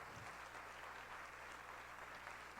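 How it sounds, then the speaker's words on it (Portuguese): A church congregation applauding Jesus during a Sunday evening service, a continuous, even patter of many hands clapping at moderate distance, with a low steady hum underneath. "Você pode aplaudir Jesus?"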